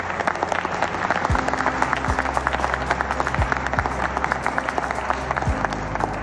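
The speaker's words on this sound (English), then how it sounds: "Can we clap for him, please?" An audience breaks into sustained applause at a talk on climate and energy resilience, dense steady clapping filling the room from start to finish with no speech over it.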